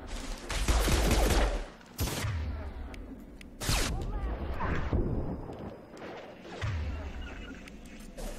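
Bursts of sci-fi weapon fire during combat in the game Mass Effect 2 crackle in loud, ragged volleys separated by short pauses, close and harsh, with a voice speaking briefly between shots.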